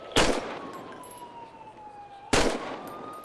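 Two sharp pistol shots in the video game GTA V, about two seconds apart, each a loud close crack, with a steady wailing police siren between them.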